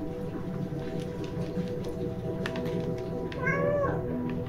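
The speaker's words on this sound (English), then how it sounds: "These are meows of fear." A cat in the video game Stray meows fearfully, a few soft rising and falling cries over a low droning ambient game soundtrack, the last meow louder and more drawn out.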